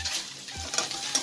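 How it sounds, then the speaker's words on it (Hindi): Chopped onions frying with masala in hot oil in a home kitchen, a short burst of crackling sizzle with scraping stirs from a spoon, close and fairly loud, with no talking. "ये हम अच्छे से इसको भून लेंगे, मतलब अच्छे से कि हल्का पिंक हो जाना चाहिए प्याज"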